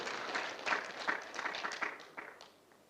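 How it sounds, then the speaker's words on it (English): An audience at a pension engagement forum in Gombe claps in a brief, quiet burst of scattered hand claps that thins out and fades after a few seconds, heard from a distance with no talk over it. "Can you clap? Can you appreciate the Ptad for that also?"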